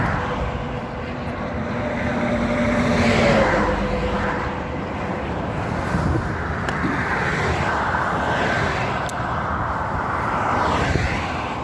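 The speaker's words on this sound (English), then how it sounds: "we're on a very busy highway" Heavy traffic roars past on a very busy highway during a roadside tire change, a steady loud wash of vehicles with swelling pass-bys, tyre noise and a distant engine drone throughout.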